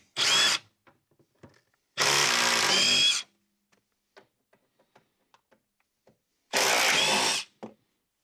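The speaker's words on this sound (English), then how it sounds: "I'm going to use the electric ratchet on one side" An electric ratchet whirs in three separate bursts, each about a second long, while removing the front seat bolts from a 2008 Ford Mustang, with faint clicks and handling noises in the quiet gaps between runs.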